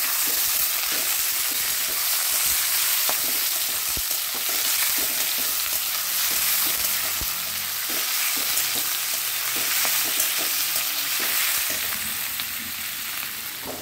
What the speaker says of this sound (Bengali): শাপলা ভাজাটা এখানে আমি বসিয়ে দিয়েছি, আর এটাই কিন্তু একটু সর্ষে, 2টো শুকনো লঙ্কা আর একটু কাঁচা লঙ্কা দিয়ে দিয়েছি